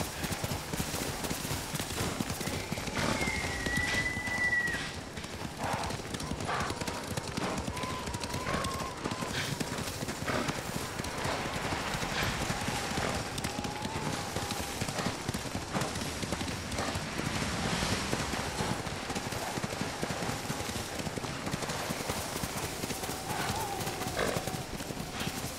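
Hooves of a galloping horse in the video game Ghost of Tsushima clatter in a steady clip-clop under continuous game music and ambience, with a brief whinny and voices speaking now and then.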